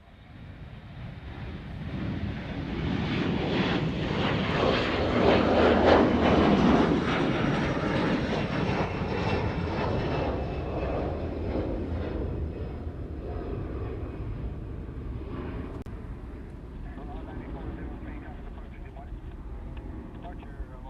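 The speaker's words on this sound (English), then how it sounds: "This is a Northern Air Cargo in a 737 300, I think." Northern Air Cargo Boeing 737-300 jet at Honolulu airport, engine roar swelling over a few seconds and then holding as a broad rumbling wash before slowly fading, heard from a distance with someone talking over it.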